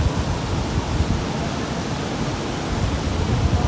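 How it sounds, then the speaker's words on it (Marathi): A heavy early-season downpour, a dense, loud, continuous roar of rain pounding surfaces nearby with a deep rumbling undertone and no talking. "आमच्या इथे पाऊस येतो आहे, किती जोरात येतो आहे बघा."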